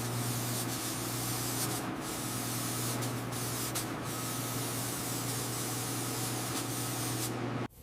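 High build primer sprayed onto a Mercedes S-Class body under restoration, a steady continuous hiss from a nearby spray gun running almost without a break before cutting off at the end.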